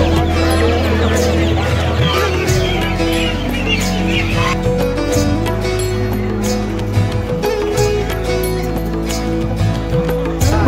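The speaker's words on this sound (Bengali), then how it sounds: "এই হাটের ভিতর ঢুকতেই পাখি কবুতর এগুলোর কি ব্যাপক সমারোহ কিন্তু প্রথমে দৃষ্টি আকর্ষণ করে" Birds and pigeons at an old riverside market called Kaikartek hat make a dense mix of clucking, crowing and honking calls over a loud, busy crowd murmur, with voices talking nearby.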